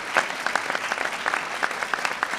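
Audience applause at a governor's public event, a steady dense patter of clapping hands filling the room at moderate loudness, with no voices standing out.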